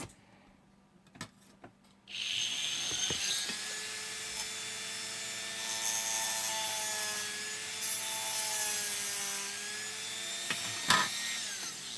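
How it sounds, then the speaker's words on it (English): A Dremel rotary tool cuts into a steel car hood hinge, starting after a quiet moment with a steady, high whine and grinding rasp that holds for about ten seconds, close and fairly loud. "So then I take my Dremel and I'll make my cuts."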